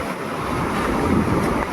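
Ocean waves surge against a damaged seawall in a brief, rushing wash of water mixed with gusty wind buffeting the microphone.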